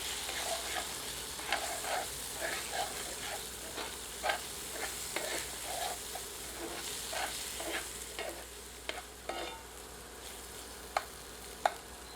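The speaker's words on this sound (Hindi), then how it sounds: "इसे मसाले में मिलाकर 1 से 2 मिनट कुक करते हैं।" Ginger garlic paste fries and sizzles steadily in masala in a pan, with a constant crackle broken by frequent stirring scrapes and occasional sharp clinks.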